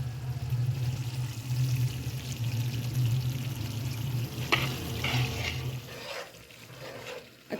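Coconut being stirred into panjiri, a sweet winter mixture, in a pan, giving a steady scraping and stirring rustle with soft frying crackle, moderately loud and continuous, easing off near the end; no one speaks.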